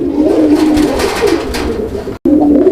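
Indian Kagzi pigeons cooing loudly and close, a steady run of throaty coos filling the clip with one brief break near the end.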